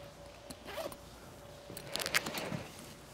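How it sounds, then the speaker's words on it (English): Zipper on a flat exterior pocket of a Veto Pro Pac XL tool bag, heard as two short quiet zipping pulls close by, the second a little stronger, with no talk. "we have these flat zippered pockets for exterior storage"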